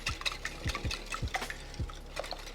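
Six eggs being whisked for a custard: a run of light metallic clicks and wet slaps from the whisk in a bowl, fairly quiet and close, with no voices.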